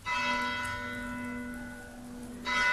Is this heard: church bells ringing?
yes